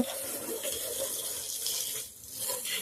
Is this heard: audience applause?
no